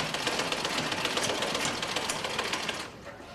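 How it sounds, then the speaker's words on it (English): Foot-pump sewing machines run together in a sewing school, making a faint, continuous rapid clatter of needles that eases off toward the end. "With every spool of thread, with every foot pump, with these simple sewing machines"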